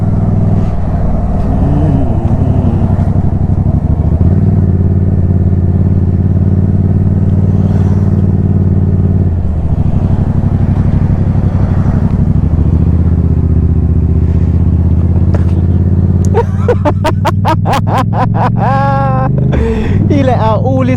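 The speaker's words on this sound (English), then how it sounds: "He let out all his frustrations by driving fast." A car is driven fast, its engine droning and revving steadily close by throughout, while people talk over it.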